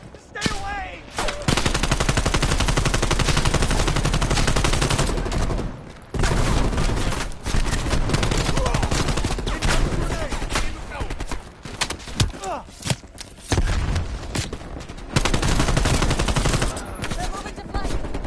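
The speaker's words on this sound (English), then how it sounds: "Please, they're shooting at us!" Sustained enemy gunfire in a Call of Duty Cold War firefight: dense automatic bursts and rapid shots rattle almost continuously, loud and close, with brief lulls and shouted voices between volleys.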